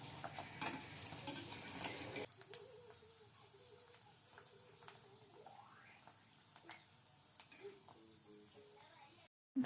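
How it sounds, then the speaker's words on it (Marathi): Kurdai and papad fry in hot oil for a Maharashtrian puran poli meal. A loud, dense sizzle fills the first two seconds, then a softer crackle continues while a voice talks over it. "पहिल्यांदा मी कुरडई आणि पापड दोन्ही तळून घेणार आहे"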